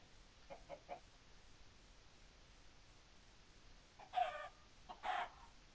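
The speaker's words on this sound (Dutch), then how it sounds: "Ik hoor een kip doodgaan." Chicken clucks from a Minecraft video game, a few short faint squawks early on followed by two louder hurt-sounding squawks near the end, with quiet game ambience in between.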